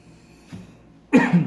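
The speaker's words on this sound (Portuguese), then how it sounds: "Um pouquinho de tosse." A person coughs indoors during a math lesson, one faint rough cough then a louder, sharper cough close to the microphone, with no talking over it.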